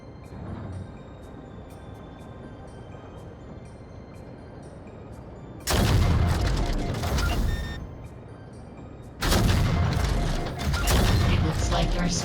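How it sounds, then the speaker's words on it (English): Scatter shot weapon firing in the mech game Vox Machinae, two long, loud, dense bursts of blasting with crackle and mechanical rattle, separated by a quieter stretch of ticking machinery. "First aim the scatter shot and then press trigger to fire"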